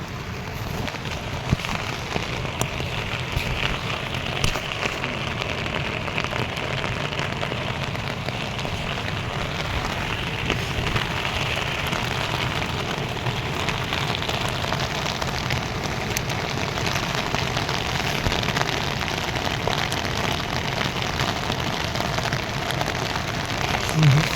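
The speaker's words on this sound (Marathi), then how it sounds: "तुम्हाला पाऊस दाखवतो" Steady rain hisses without a break in Chitkul, a village near the India–China border, a dense broadband wash with a faint low rumble underneath and no voices.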